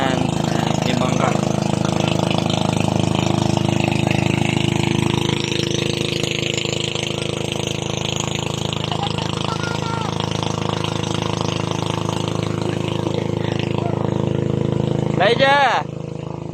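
A boat engine runs steadily nearby with a chugging mid-pitched drone, a brief whistle-like sweep rising near the end, in Calatagan, Batangas.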